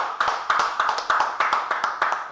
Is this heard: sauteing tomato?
no